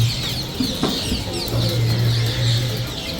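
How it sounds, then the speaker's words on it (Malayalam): A flock of parrots gives a dense, continuous chatter of calls outdoors, loud and close, with no pauses through the short stretch. "പാരറ്റ്സ് എല്ലാം അത്യാവശ്യം വന്നിട്ടുണ്ട് കേട്ടോ"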